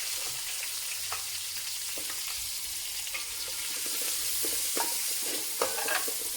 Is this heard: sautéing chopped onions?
yes